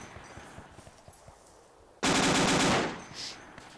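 Burst of automatic gunfire in the ArmA 2 military video game, a loud sustained volley lasting about a second after quiet ambient background, then fading with a brief echo.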